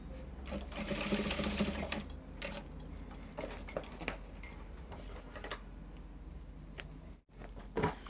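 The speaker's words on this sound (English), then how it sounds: "Then you're going to tag it down at the center. Don't sew too much. Just tag it down." A sewing machine tacks a bra cup onto a bustier dress at the center, running in a quick rattling burst and then slowing to a few short stitches, close and fairly quiet.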